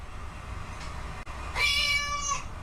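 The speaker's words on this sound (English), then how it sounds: "plays an audio clip of a cat meowing" A recorded cat meow played back as a single drawn-out, wavering cry lasting about a second, fairly close and clear over a low steady background hum.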